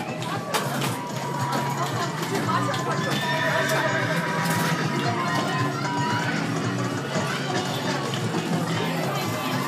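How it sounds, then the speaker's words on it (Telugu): A ridden horse neighs and whinnies while hooves clip-clop steadily, with people talking nearby throughout. "ముందు నీ గుర్రం పోతుందా రిషి?"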